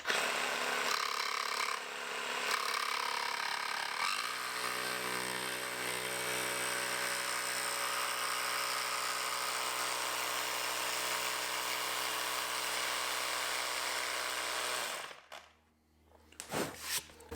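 A Festool Carvex jigsaw cuts steadily, its reciprocating blade making a loud, continuous buzzing drone close up for about fifteen seconds before it cuts off abruptly, followed by a few quieter handling noises.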